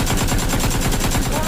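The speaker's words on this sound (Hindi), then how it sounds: "अगला बंदा उसको फायरिंग कर रहा है" Fast, rattling automatic gunfire runs continuously and loudly, close and dense, in a short TikTok video scene.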